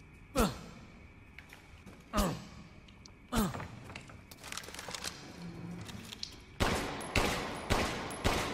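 Gunfire in Resident Evil Village: several loud, separate shots with sharp cracks and short echoing tails, spaced a second or more apart. A final run of denser, quicker blasts comes near the end over a low game background.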